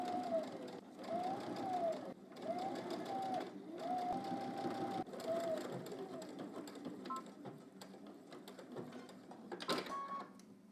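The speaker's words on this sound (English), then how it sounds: "let's head to the machine and we're going to stitch in the ditch" Home sewing machine stitching in the ditch along a garment waistband, running in several bursts of steady motor whir with short pauses between, close and fairly loud, with no talking.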